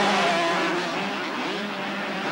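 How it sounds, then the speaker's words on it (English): Forty 125cc single-cylinder water-cooled motocross bikes screaming off the start gate at a 1991 British championship round at Wakes Colne, a loud, dense high-pitched roar that fades slightly as the pack pulls away. "40 little 125 machines will scream down the start"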